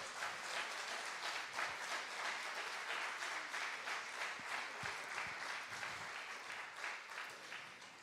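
A church congregation at Iglesia Salem in Fuenlabrada applauds, a soft, distant, sustained patter of many hands clapping at a steady level with no voices over it.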